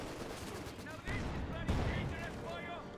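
Machine gun fire and battle explosions in the Company of Heroes 2 strategy game rumble at a moderate distance beneath a commentator's continuous talk, with bursts of rattling fire throughout.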